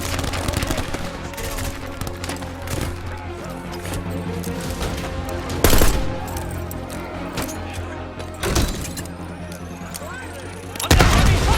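Heavy gunfire in Call of Duty Black Ops 6: dense, sustained automatic fire crackles throughout, with several louder bursts or blasts standing out, loud and close, while voices speak intermittently underneath.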